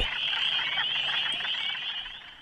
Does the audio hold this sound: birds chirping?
no